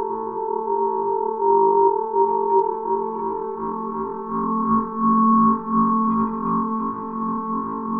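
A sustained ring-modulated synthesizer tone from Bitwig, steady and buzzy with shifting metallic overtones that swell and dip in loudness, playing alone without any voice.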